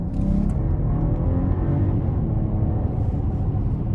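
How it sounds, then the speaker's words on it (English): A 2023 BMW 740i with a 3.0-litre turbocharged inline-six pulls hard at full throttle, its engine a steady, loud, rising drone and rumble heard from inside the cabin, with no talk. "let's just start out with the foot to the floor"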